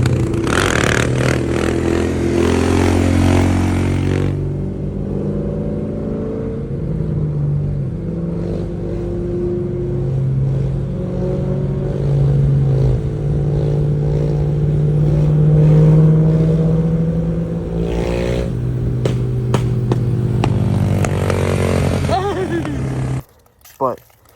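A Suzuki DR650 dual-sport motorcycle engine drones steadily while riding, with a deep, sustained hum that shifts slightly in pitch as the throttle changes, plus wind rush and a brief clatter near the end.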